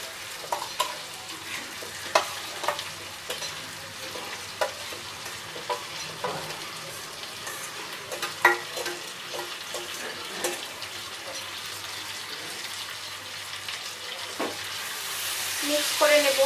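Chunks of goat liver, coated in salt and turmeric, fry in a spiced masala over a medium gas flame, giving a steady soft sizzle broken by scattered scrapes and clicks of stirring.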